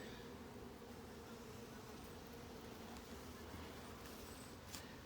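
Honeybees buzzing on a brood frame covered with nurse bees during a hive inspection, a continuous soft drone of many wings held close by, with no one talking.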